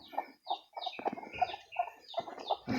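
Chickens clucking nearby in a steady series of short, repeated clucks, some sharper calls mixed in, with no talking.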